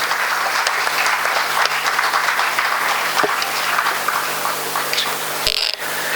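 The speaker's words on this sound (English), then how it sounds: "All of you give them a huge round of applause." Sustained audience applause fills a college orientation program hall, steady and dense throughout, with a brief drop near the end.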